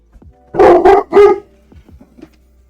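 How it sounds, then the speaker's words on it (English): Dogs in a Unity-made game bark three times in quick succession, loud and close, followed by a few faint quieter yips. "I'll just let the dogs in, they start barking."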